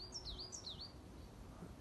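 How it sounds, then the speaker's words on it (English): Small birds sing outdoors on a mild winter morning at a falconry centre, a quick burst of high, warbling chirps that fades out, faint and alone. "Outside, the birds are singing"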